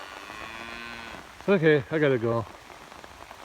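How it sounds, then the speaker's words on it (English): Rain falls steadily on a big cattle pasture as a soft constant hiss, while someone speaks briefly and loudly close by in the middle of the clip. "Uh-oh. Starting to rain harder."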